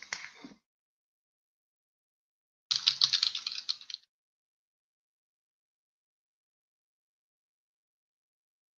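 Fast typing on a computer keyboard in two close bursts of rapid clicking, a brief one at the start and a longer flurry a few seconds later, with near silence around them.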